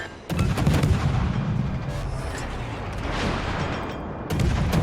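Heavy naval artillery booms in the World of Warships game, with a deep salvo opening and another near the end over a continuous rumbling battle backdrop.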